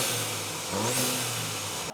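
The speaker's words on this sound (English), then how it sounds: "All right, so now my car is on and I'm gonna give it a couple revs." A stock Audi A4 turbo engine with its factory intake, heard close up as a steady hum that swells into one brief rev and settles back, with no talking over it.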